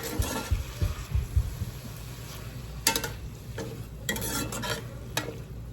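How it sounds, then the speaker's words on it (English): Tomato salad stirred in a pan gives close, thumping scrapes and knocks, heaviest at first, then intermittent clatters over a low continuous sizzle. "Give that a good stir."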